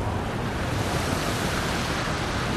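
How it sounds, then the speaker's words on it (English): Strong wind roars through a scene in the Tales from the Borderlands video game, a steady, loud, broadband rush that never lets up. "The wind's too strong for me to get a clean shot!"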